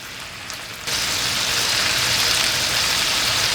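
After a brief quiet moment, beef tapa marinated in Coca-Cola hits a hot pan and suddenly bursts into a loud, steady sizzle that hisses on without pause.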